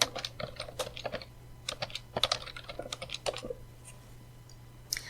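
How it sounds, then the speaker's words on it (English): Typing on a computer keyboard at close range, quick uneven bursts of crisp key clicks with short pauses, over a faint steady hum. "Let's type view AI invest in the console."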